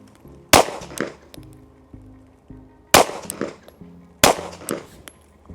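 Handgun shots fired one-handed with the weak hand at a shooting range, three sharp loud reports spaced a couple of seconds apart, each with a short ringing echo and faint clinks between.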